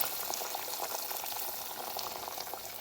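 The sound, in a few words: boiling water added to the meat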